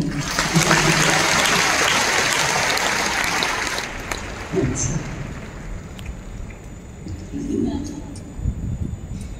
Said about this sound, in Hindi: सभी ताली तो बजाओ।